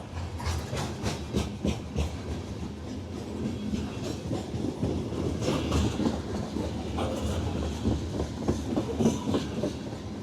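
A loaded grain freight train rolls past heading south with steady clickety-clack of wheels over rail joints and a heavy rumble, loud and close throughout, at Mortons Gap, Kentucky.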